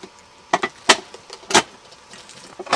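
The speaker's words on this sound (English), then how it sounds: "take the lid that you cut out and put it in over top of it to hold the ashes in." A cut tin can lid is fitted over the top of an ash-filled rocket stove, producing a few short metallic clanks and scrapes, close and fairly loud, spaced irregularly.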